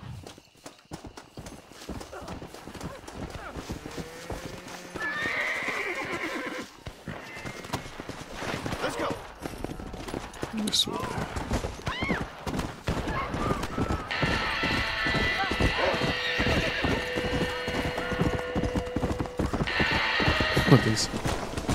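Horse hooves clip-clop steadily through Red Dead Redemption's swampy outdoors, with a neigh rising midway and other game sounds layered in; someone speaks briefly over it.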